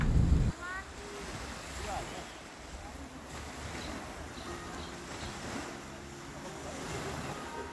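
Surf breaking on the beach at Pantai Kencana in Sumbawa Besar, heard as a steady wash of waves with wind rumbling across the microphone and a short loud thump at the start.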